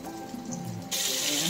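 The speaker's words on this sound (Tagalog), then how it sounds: "pwede na natin siyang lagyan mga suki ng konting tubig." A little water poured into a pan of frying chicken dumplings, steady rushing hiss over background sizzle that suddenly swells louder and brighter partway through.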